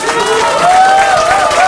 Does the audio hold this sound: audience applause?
yes